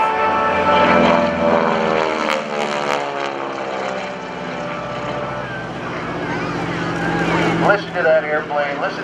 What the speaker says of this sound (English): All that Pratt & Whitney power. Big propeller fighting into the sky